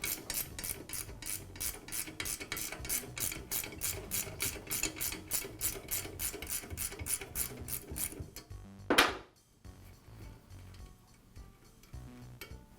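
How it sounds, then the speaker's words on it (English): A ratchet wrench clicks in fast, even strokes while removing the nut that holds the adjustment lever on a Southland lawn edger. A sharp metallic scrape follows, then quieter handling. "Now remove the nut that secures the adjustment lever."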